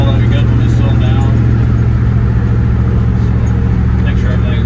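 A 1998 Ram 1500 van with a Hemi engine swap cruising on the road at about 65 mph, a steady loud engine drone and road rumble from inside the cabin, with a voice talking over it.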